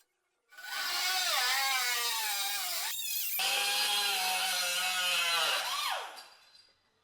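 Power tool cutting through the steel sill panel of a 36-year-old BMW E30 Touring under restoration, a loud continuous whine with a brief pause midway, then trailing off.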